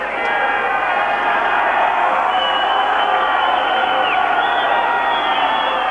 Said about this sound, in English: the crowd certainly making plenty of noise and hoping they can lift their side